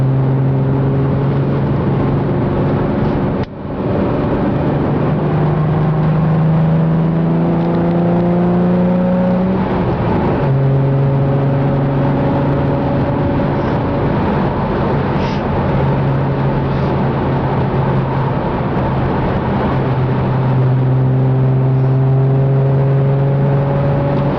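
A Mustang V6 fitted with an MRT Interceptor axle-back exhaust pulls through third gear onto an expressway, its exhaust drone rising in pitch through repeated steady climbs, loud and constant from inside the car.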